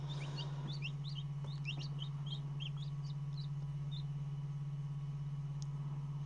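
Newly hatched baby chicks in a homemade incubator give a series of high, thin peeping chirps in short clusters, fairly faint over a steady low electrical hum from the incubator.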